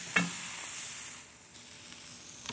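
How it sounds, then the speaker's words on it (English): Meat searing in a hot griddle pan gives a steady, close sizzle with a sharp stir or clatter near the start. The hiss eases slightly partway through and no one talks over it. "I'm trying to brown the meat really nicely on all sides."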